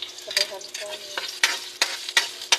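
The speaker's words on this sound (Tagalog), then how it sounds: "So guys, magpainit tayo ng mantika. Para panggisa natin." Garlic and onion sauté in hot oil for pancit canton, a steady close sizzle broken by sharp, regular spatula scrapes against the pan.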